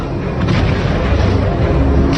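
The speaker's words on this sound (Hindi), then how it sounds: "ये पटाखे नहीं, मिसाइल हैं।" Heavy booming missile blasts roll together into a continuous, loud rumble of explosions, dense and overlapping with no pauses.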